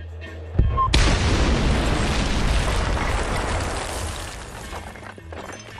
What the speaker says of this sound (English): listen to how the music of the radio and the explosions interact